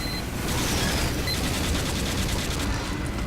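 Gunfire in a video game on the Goldrush map, a dense continuous rattle of rapid shots and blasts with no pauses, loud and steady throughout.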